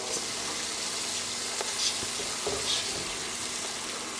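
Achari spice mix being stirred into chicken in a pan over low heat, a steady gentle sizzle with soft scraping stirs and a few faint clinks, close and without speech.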